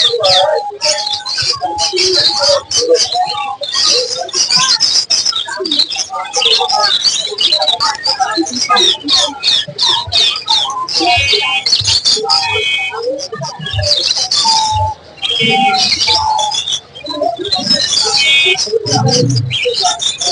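Mirpur-1 bird market in Bangladesh, a loud dense chorus of caged birds chirping, tweeting, squawking and pigeons cooing, overlapping continuously from close range with people talking among the calls.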